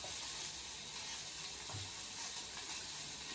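Brinjal and drumstick sauté in a pan with a steady, close hiss of frying, soft stirring scrapes, and no talking.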